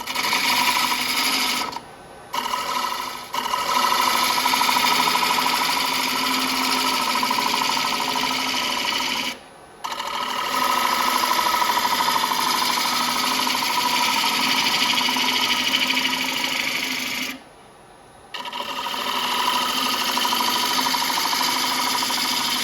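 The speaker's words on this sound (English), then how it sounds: "I think that we can take a couple of passes here with this traditional bowl gouge." A wood lathe spins a bowl blank while a traditional bowl gouge takes bulk-removal passes, giving a steady close whirring drone with a scraping hiss that cuts out briefly three times as the tool lifts off.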